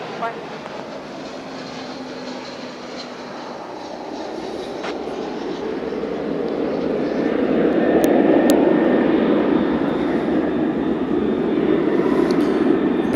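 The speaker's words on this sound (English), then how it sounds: "See a flight to Tucson go by. That's American Flight 584, Airbus A321." Airbus A321 airliner passing at Dallas/Fort Worth Airport, a jet roar that swells gradually and stays loud toward the end, with faint radio chatter in the background.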